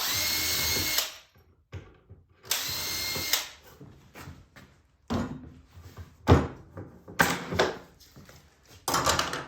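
A power drill bores concealed hinge holes through a Kreg hinge jig in short loud whirring bursts, separated by clunks and knocks from handling the wood and jig.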